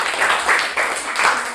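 Steady applause from a group of students in a classroom, dense clapping sustained throughout with a few swells, fairly loud and close.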